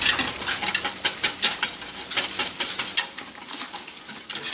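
Food being stirred in a cooking pot, a rhythmic series of close scraping, clinking strokes over a low sizzle, with no voices.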